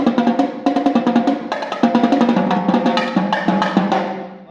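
Rapid drum strikes on pitched tenor drums, crossovers rushed and uneven, loud and close with no voices.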